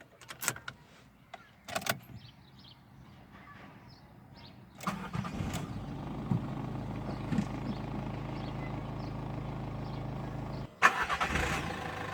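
A 2018 Dacia Sandero Stepway opens with a few quiet clicks and key rattles, then its engine cranks and catches into a steady idle, with a brief louder clunk and a rev near the end.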